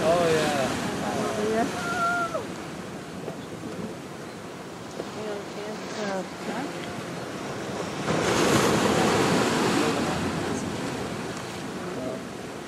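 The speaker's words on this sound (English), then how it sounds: "the waves breaking way out." Ocean waves break far offshore along a Hawaiian coast, a continuous roar of surf with wind buffeting the microphone that swells louder toward the end, and a faint voice in the background early on.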